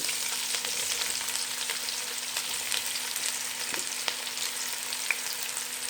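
Two medium-sized chopped onions fry in hot oil with a continuous bright sizzle, steady and close, marked by occasional crackles and pops.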